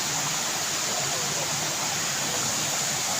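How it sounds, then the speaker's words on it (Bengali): Waterfall water pouring at a Panchalingeswar temple in Odisha, a dense, loud and unbroken rushing roar, close by and with no voices over it. "এই দেখুন ওখান থেকে ঝর্ণার জলটা আসছে"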